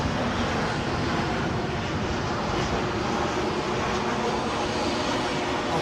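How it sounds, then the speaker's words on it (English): A Ryanair airliner arrives at Edinburgh airport, a loud, continuous engine roar heard close up, steady and broadband throughout with no pauses. "Inbound, Ryanair. First arrival of the show."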